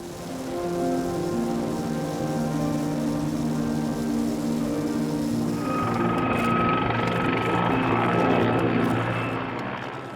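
A Mil Mi-26 heavy helicopter with twin Lotarev turboshaft engines gives off a loud, sustained turbine whine and rotor roar that builds into a harsher, noisier wash partway through, with no speech.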